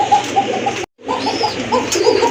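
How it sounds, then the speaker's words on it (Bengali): A pair of koka pigeons coo close by in a series of soft, rounded, repeated calls, broken by a brief silent gap before the cooing resumes. "এটা কিন্তু অনেক ভালো ডাকে, আমি এখানে আসার পর থেকে কিন্তু দেখলাম যে ডাকতেছে।"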